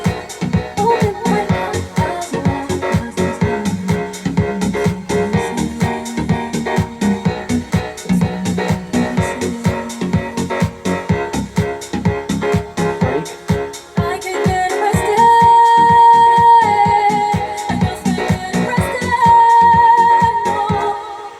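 A remix of a dance track in Ableton Live plays with an added bass line, a loud steady beat with punchy drums and chords over a moving low bass, building into sustained synth tones later on.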